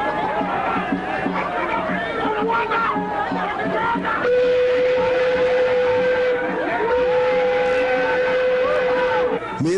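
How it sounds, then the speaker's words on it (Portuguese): A boat's whistle sounds its arrival in a jungle-adventure Tarzan film: a long, steady, loud tone held for about five seconds with a brief dip midway, over busy crowd noise and shouting. "Mesmo o apito avisando a chegada do meu barco promete um novo terror."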